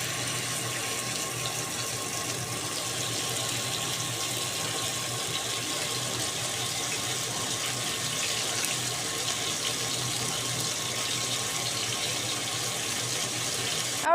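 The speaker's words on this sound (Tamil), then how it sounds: "அதனால் மீன் துண்டுகளை தவாவில் போட்டுக்கலாம்." Pieces of marinated fish fry on a tawa with a steady, even hiss that stays constant and fairly quiet throughout, with no talk.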